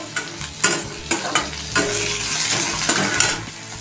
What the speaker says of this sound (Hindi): अभी ऑनियन और ग्रीन चिली को अच्छे से फ्राई कर लेना है